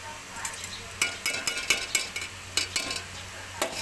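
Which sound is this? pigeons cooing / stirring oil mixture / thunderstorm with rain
stirring oil mixture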